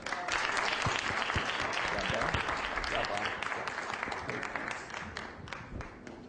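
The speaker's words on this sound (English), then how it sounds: "How about a nice little round of applause?" An audience applauds at a business presentation, a dense, steady wash of clapping from many hands that holds loud throughout and tapers only slightly toward the end.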